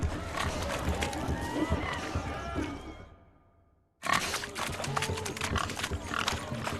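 In The Witcher 3, pigs grunt and squeal during a swineherd race, with hooves scuffling and voices talking over the commotion. Everything drops to silence for about a second before it bursts back in.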